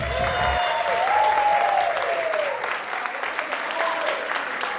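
Comedy show audience applauding for the comedians, a full, steady roar of clapping with a brief musical tone at the start and some speech over it.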